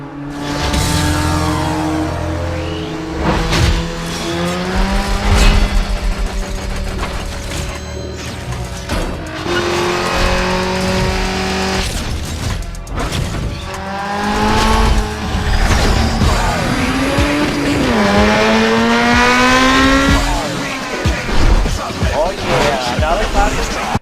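Race car engine in Need for Speed: Underground revs loudly with rising and falling pitch sweeps, with tire squeals and skids mixed in. The sound continues throughout, with music or game effects layered over it.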